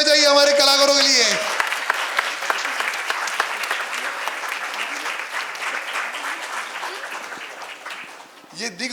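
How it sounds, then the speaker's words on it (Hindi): After a stage play, an audience claps loudly for the actors, a dense and steady ovation that follows a short stretch of music and carries on to the end, with voices mixed in underneath. "तो एक बार जोरदार तालियां बजाइए हमारे कलाकारों के लिए"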